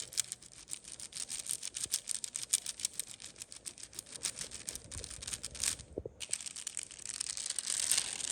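Metallic foil being burnished onto denim or a tank top by hand, a steady dry crinkling and rubbing that runs close and continuous with a brief pause before resuming.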